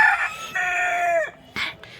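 A rooster crows loudly and close in a sunny winter yard, one long drawn-out call that trails off, followed by a short squawk or cluck from the flock.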